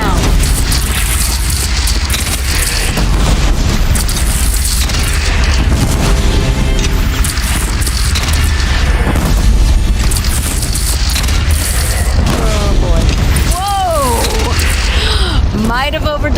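A bridge is shot down and explodes in the game Horizon Zero Dawn: loud, sustained booming and crashing debris fill the scene, with voices talking over it near the end.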